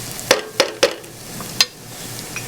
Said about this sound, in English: saute the cumin seeds, burn the garlic a little bit, let it turn brown